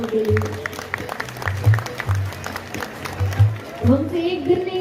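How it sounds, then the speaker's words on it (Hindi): An audience applauds the saints at a live religious discourse in Farrukhabad: rhythmic crowd clapping rises and falls over a low droning hum that carries tonal accompaniment, fairly loud throughout. "एक बार जोरदार तालियां सभी संतजनों के लिए।"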